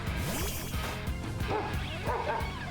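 Dog Pokémon barking and yipping in a battle in Pokémon Violet, several short game-audio barks and whimpers layered over continuous background music.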